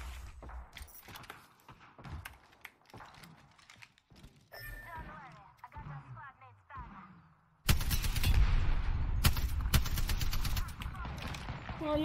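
Rapid gunfire bursts in the Apex Legends game, with clicking weapon mechanisms and scattered shots early on, then a dense, loud stretch of sustained firing in the second half, with voices talking throughout.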